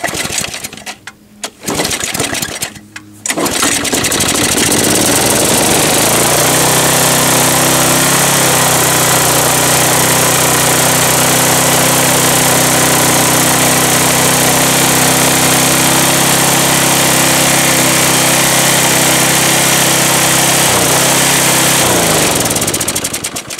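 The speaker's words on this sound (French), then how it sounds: "le moteur tourne un peu vite" A small Mac Allister engine with a carburettor problem and a badly refitted spring sputters, catches, and then runs loud and steady at a high, fast idle close by for the rest of the clip.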